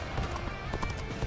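Brief clip-clop of horse hooves trotting in the video game Dynasty Warriors: Origins, under a dense, loud wash of game sound and music.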